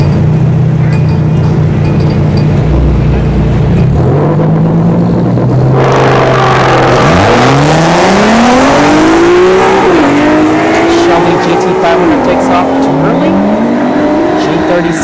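An Infiniti G37 and a Shelby GT500 drag race at a dragstrip, engines idling, then launching with a loud roar and rising revs through several gear shifts, with a crowd or announcer audible under the noise.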